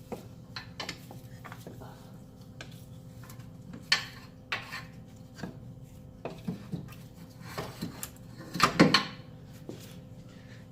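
A seized A/C compressor is worked loose and pulled from a Honda CR-V engine bay, giving scattered close metallic clunks, scrapes and rubbing knocks, with a louder rattling clatter near the end as it comes free.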